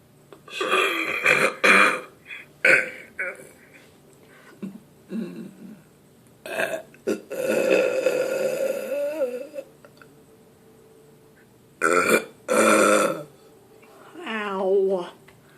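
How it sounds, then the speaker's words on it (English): Drawn-out burps from a person, several separate belches spread across the stretch with pauses between, close and fairly loud, plus a little throat noise. "I'm gonna burp for you all if I can burp."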